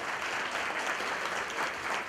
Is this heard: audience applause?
yes